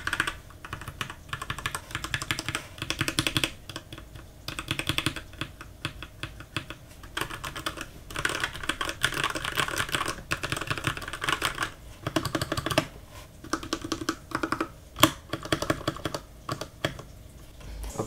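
Fast, steady typing on a Royal Kludge RK61 60% hotswap mechanical keyboard gives a dense run of close, crisp key clacks with brief pauses, alone without speech.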